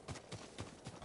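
Horse galloping in the Ghost of Tsushima video game, steady rhythmic hoofbeats in quick repeating clusters, close and moderately loud, with no talk over them.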